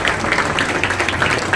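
Applause from a crowd at a political gathering welcomes the arriving mayor, a steady wash of many hands clapping at moderate distance with no clear individual claps.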